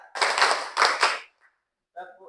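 A group in a classroom claps together on a counted cue, with two loud unison bursts of clapping close together, then a short pause before a voice begins speaking.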